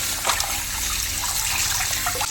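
Water gushes and splashes steadily into a vessel as koori catfish are washed for cleaning, a close, continuous pour with no talk.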